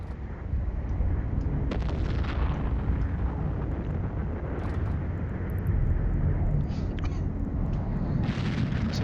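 Ship weapons firing aboard a Drake Navy Issue in Eve Online, fighting a battleship at a Winter Nexus high-security combat site: a dense, continuous rumble of booming blasts and explosions with a few sharper hits, loud and sustained throughout.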